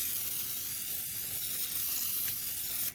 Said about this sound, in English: I'm going to spray the pan